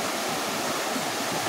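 The Brahmapur waterfall roars as a loud, dense, unbroken wash of rushing water, heard close with no other sounds.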